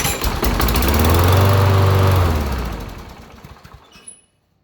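An old, long-unused lawnmower engine fires on a test start and runs for about three seconds with a loud, close rattling drone, then winds down and cuts out into near silence.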